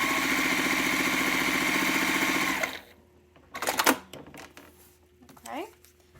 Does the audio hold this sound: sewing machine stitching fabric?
yes